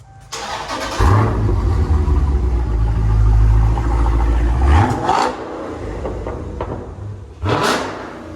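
A Dodge Challenger 392 HEMI with straight pipe exhaust fires up loudly and settles into a deep, rumbling idle. Several sharp throttle blips follow, and then a final hard rev swells and fades. The car is close, with nobody talking.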